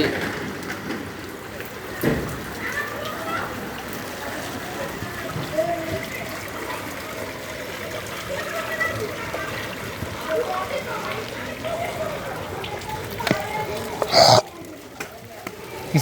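Flood water sloshing through a street left head-deep under water in Ahmednagar, Mirpur, Dhaka, during Cyclone Remal: a steady broadband wash of moving water with a brief louder splash near the end, with people talking over it.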